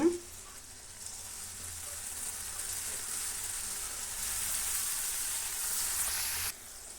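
Sweet jackfruit chips frying in hot oil give a steady, close hiss of bubbling sizzle that swells slightly and then cuts off abruptly near the end, with no voices.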